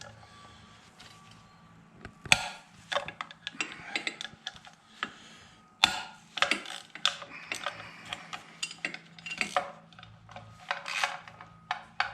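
Ratcheting clicks from an 8 mm socket on a long extension as bolts are loosened during valve work on a Polaris Predator ATV, with irregular bursts of fast, close metallic ticking and clanks, no talk.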